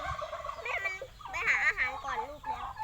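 A chicken calls in a rural yard in Sakon Nakhon, Thailand, giving a few wavering, bending cries close by, with voices in the background.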